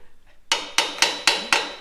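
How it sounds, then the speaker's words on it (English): Five sharp hammer strikes tapping bearings into place on a Jeep, at a steady rhythm, each ringing briefly, close and loud after a short quiet moment. "Also hitting them with the hammer makes them settle in."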